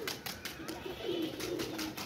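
Pigeons coo softly on a rooftop, a low throaty call rising out of faint background noise.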